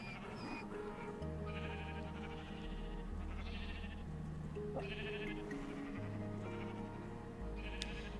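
Repeated bleats from Minecraft sheep, several short calls spaced every second or so over a continuous low game drone, close and clear with no talking.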